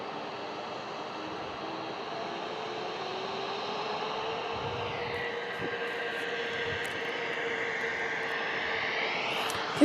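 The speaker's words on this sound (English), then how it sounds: "So we appear to have a Challenger landing next." A Bombardier Challenger business jet comes in to land at San Diego International Airport, a steady distant engine roar and whine that rises in pitch and swells slightly as it approaches, heard outdoors without talk.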